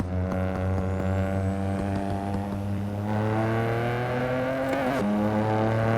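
Tuned Peugeot 207 engine in an Assetto Corsa racing game, revving steadily with strong harmonic drone, pitch climbing gradually, a brief gear-change dip near the end, loud and continuous with no talk.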